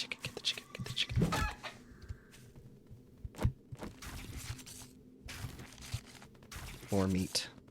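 A chicken clucking in the video game 7 Days To Die, a few short clucks and squawks amid game noises, with someone talking.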